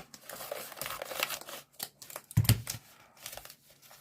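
Scissors snipping and crinkling through vacuum-sealed plastic packaging around yarn, a few close, sharp cuts and rustles with a heavier clunk partway through, no talking.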